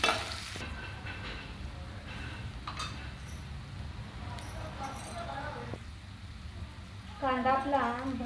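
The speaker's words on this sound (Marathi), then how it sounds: "कांदा घालून घ्यायचा आणि कांदा छान गुलाबी रंगावर येईपर्यंत आपण परतवून घ्यायचा आहे" Chopped onion sautéing in a pan for a cauliflower and green pea curry, a steady low sizzle with occasional scraping stirs and light clinks, while a person talks over it throughout.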